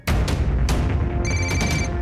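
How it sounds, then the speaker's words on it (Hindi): A telephone rings with bright electronic tones over a dense, loud backdrop of music or noise; the ring's harmonic pattern repeats through the second half. "ये सैनी क्यों मुझे फोन कर रहा है?"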